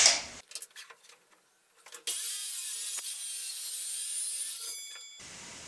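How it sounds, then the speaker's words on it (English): A sliding miter saw cutting a wood block in half, a few faint handling knocks first, then the spinning blade whines and bites through the wood in one sustained, loud cut before winding down. "I'm going to use my sliding miter saw to cut this down right in half"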